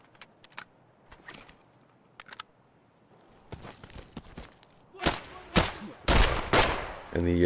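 Gunfire in Escape From Tarkov, with a buckshot or slug weapon in play: scattered faint shots and footsteps early, then several loud, close sharp blasts in quick succession near the end.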